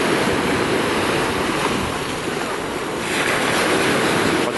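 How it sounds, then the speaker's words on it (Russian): Sea surf breaking steadily on the Mediterranean shore at Alanya, Turkey, a continuous loud wash of waves with some wind noise on the microphone and no talk. "Потрясающее море, друзья"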